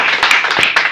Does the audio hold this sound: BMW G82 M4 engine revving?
no